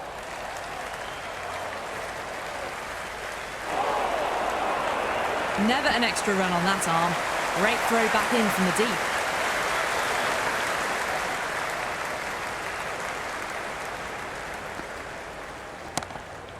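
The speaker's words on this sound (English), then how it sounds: "all these spectators here today completely enthralled and energised, judging by that noise anyway" A stadium crowd in the cricket video game Cricket 26 roars and cheers as a broad, steady swell for most of the stretch, with a commentator speaking over it throughout.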